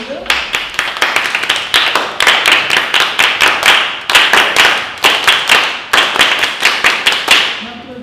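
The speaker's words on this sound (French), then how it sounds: "On peut s'applaudir." A group of children clap their hands together in a steady, loud burst of rhythmic applause at a summer church gathering, with brief pauses between runs of claps and no talking.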